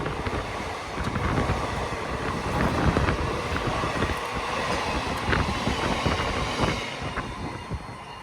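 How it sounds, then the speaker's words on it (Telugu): A train rolls along the track near Srikalahasti, not far from Renigunta, with a broad steady rumble and faint rhythmic clatter, moderately distant, with wind buffeting the microphone and no talking. "చూడండి ఏదో ట్రైన్ వస్తుంది."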